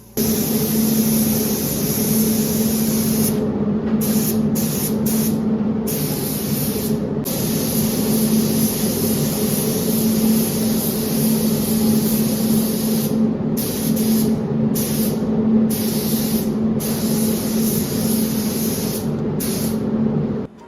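A spray gun lays a second base coat of paint onto Ford Escort parts, a loud steady hiss of air and atomized paint running almost without break, cut by several brief pauses as the trigger is released.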